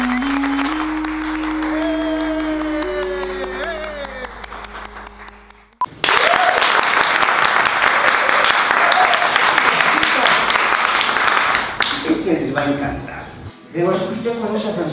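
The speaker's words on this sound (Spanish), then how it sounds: "Un aplauso al corazón." Studio audience bursts into loud, sustained clapping and cheering after a sung or musical lead-in, filling the room close and dense before briefly dipping.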